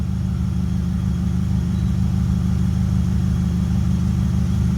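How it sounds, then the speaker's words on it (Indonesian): A car engine with a modified header exhaust rumbles loudly and steadily at close range, its deep throaty exhaust pulsing without pause. "ada di header knalpot, jadi suaranya kalau di starter dia agak keras"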